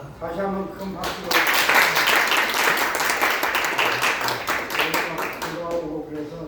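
An audience at a lecture breaks into a sustained round of clapping that swells quickly, holds, then thins out, with a voice talking faintly before and after.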